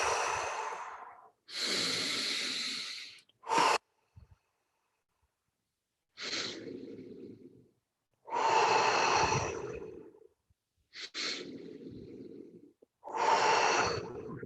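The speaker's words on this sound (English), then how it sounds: "Keep on breathing like this." Deep diaphragm breathing exercise: slow, loud inhales and exhales close to the microphone, each drawn-out breath separated by short silences, with a few quick sharp sniffs between them.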